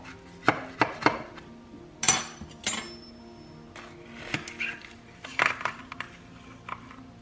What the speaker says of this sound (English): So, I'm gonna cut us a piece.